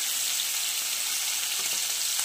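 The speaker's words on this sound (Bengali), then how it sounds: "মাছগুলো এবার তেলে ভেজে নেবো লাল লাল করে।" Fish fries in hot oil for a curry, a loud, dense, hissing sizzle that holds steady and close through the whole short stretch.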